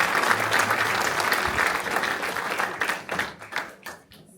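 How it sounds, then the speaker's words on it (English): A theater audience at a film festival in the Varsity Theater, Chapel Hill, applauds the filmmakers: full, dense clapping that holds steady, then thins out into scattered individual claps before fading. "So, round of applause to."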